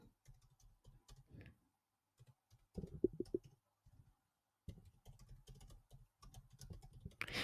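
Quiet clicking of computer keyboard keys comes in irregular bursts while a search term is entered, soft and close with short pauses between runs of keystrokes.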